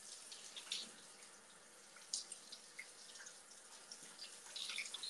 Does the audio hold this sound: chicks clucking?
no